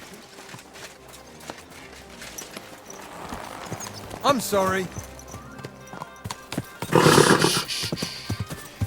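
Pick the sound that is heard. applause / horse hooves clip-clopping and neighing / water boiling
horse hooves clip-clopping and neighing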